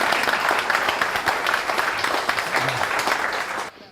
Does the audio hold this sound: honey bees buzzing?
no